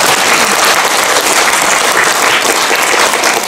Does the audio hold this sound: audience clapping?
yes